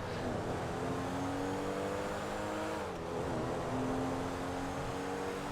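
A Comet sports car in GTA 5 cruises along a highway toward the airport, its engine a steady, close, continuous drone with harmonic whine that dips briefly around a gear change before climbing again, with no talk.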